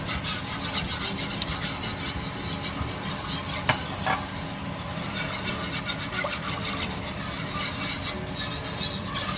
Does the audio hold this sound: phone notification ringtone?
no